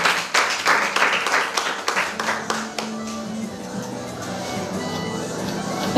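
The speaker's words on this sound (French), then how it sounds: "Applaudissements pour Arc-en-Ciel Image." Audience applause at a French presentation event, a dense burst of clapping that starts strong and gradually thins and softens over several seconds, with a low murmur of voices underneath.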